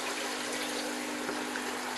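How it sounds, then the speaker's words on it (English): Water pours steadily into a tray of an external fish tank filter, a continuous splashing trickle that stays even and fairly close throughout, with no voices. "You see the water going into it."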